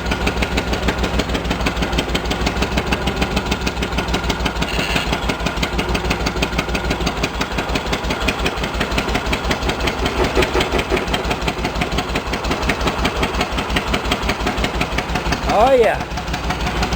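A Cub Cadet 1650 garden tractor converted to four-wheel drive runs loud and close, its engine chugging in a steady rapid pulse, with a brief voice cutting in near the end.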